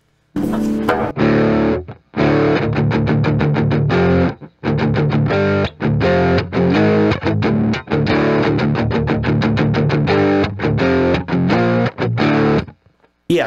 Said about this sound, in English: Okay, so that's a pretty thick distortion that we're getting.